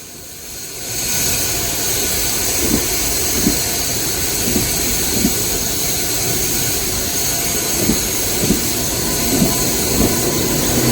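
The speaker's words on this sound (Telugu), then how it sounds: "మిరియాలగూడ నుంచి కాచిగూడ వెళ్తున్న మెమో ట్రైన్" A twelve-coach MEMU train runs from Miryalaguda toward Kacheguda with a steady loud rumble and rhythmic clacks of wheels over rail joints recurring every second or so.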